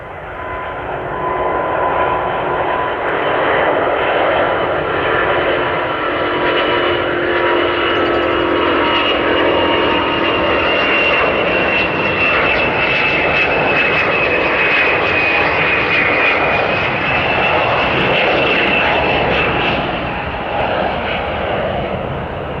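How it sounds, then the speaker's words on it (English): Airbus A350 prototype jet engines roaring through a low takeoff at Toulouse, a loud continuous turbofan roar with shifting power and whining tones sustained for over twenty seconds. "This Airbus A350 prototype performs an impressive low takeoff at Toulouse, nearing a tailstrike. Watch the rudder and listen to the engines at different power before banking."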